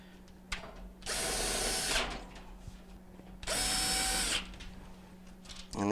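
A power drill drives 1/4-inch screws into the back panels of a Frigidaire gas stove, FGF368GMD, in two loud, close bursts of about a second each, with a steady hum between them.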